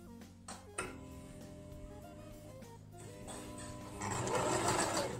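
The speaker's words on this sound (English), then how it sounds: "I forgot to adjust my stitch pattern. So the last time I used this machine" Sewing machine stitching at close range, a rapid mechanical whir with a few sharp clicks early on, running fairly quietly and steadily, then growing louder and noisier toward the end; no voices are heard.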